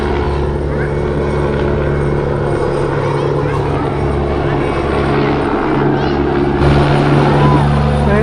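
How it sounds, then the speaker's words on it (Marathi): A helicopter circles above the Rajmata Jijau birthplace palace in Sindkhed Raja during the 2024 Jijau Janmotsav celebrations, giving a loud steady rotor drone that fills the whole clip, with crowd voices underneath. "वर ना एक हेलिकॉप्टर आहे"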